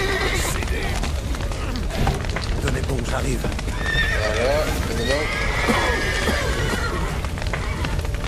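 A horse neighs and whinnies with hooves clip-clopping in the video game The Witcher 3, a loud, continuous scene with rain-like noise and someone speaking French over it.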